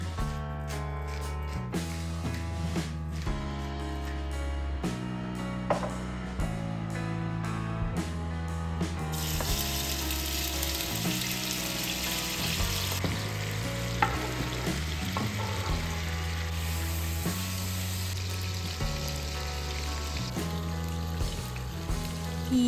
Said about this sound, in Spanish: mientras se va friendo la carne